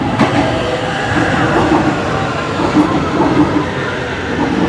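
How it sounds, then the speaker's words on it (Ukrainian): A modern train on the Warsaw metro rumbles loudly with steady rolling noise and faint wheel clatter, heard close up from the platform or inside a car. "Покажу вам, як виглядає потяг"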